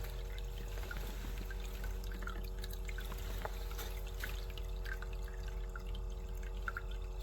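Water trickles slowly and steadily through a highbanker gold prospecting sluice beside the Wisconsin River, a soft continuous flow with faint drips, no talking over it.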